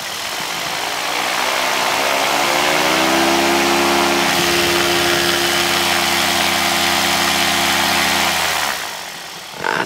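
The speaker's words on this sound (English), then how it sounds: "Let's see if we can get a full power check out of this engine." Engine of a Dragonfly aircraft during a full power check on the ground: a loud, steady mechanical drone that rises in pitch, holds strongly for several seconds, then winds down near the end.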